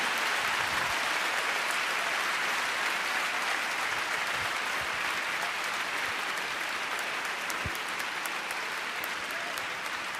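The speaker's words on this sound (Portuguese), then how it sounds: "Vamos aplaudir o Senhor." A church congregation applauds during a worship service, a continuous, full wash of clapping from many hands that fills the room at an even level throughout.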